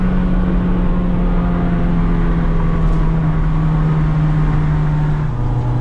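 A 2006 Toyota Corolla cruises steadily in third gear, its constant low engine drone running unbroken alongside a broad rush of wind noise, loud and close throughout with a slight drop in pitch near the end.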